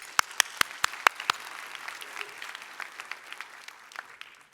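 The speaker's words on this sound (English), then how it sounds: "Let's give them another round of applause." Applause for a steering committee begins with a few sharp, distinct claps up close, then settles into a softer, thinner patter from the crowd.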